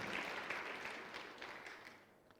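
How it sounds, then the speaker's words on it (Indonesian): Soft, distant applause from a church congregation, a steady wash of clapping that fades gradually toward the end. "Ya, boleh beri tepuk tangan."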